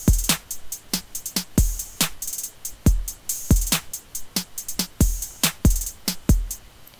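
Trap drum beat programmed in LMMS: deep booming kicks, sharp snares and crisp hi-hats with a quick hi-hat roll, looping in a steady pattern, punchy and close with no voices.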